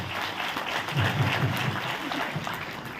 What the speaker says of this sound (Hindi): आपके लिए ताली बजाओ भाई सबके लिए